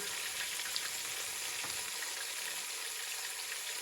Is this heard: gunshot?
no